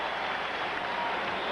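A basketball crowd at the 1987 Finals Game 5 between the Celtics and Lakers applauds in a steady, dense roar of clapping that fills the arena without a break.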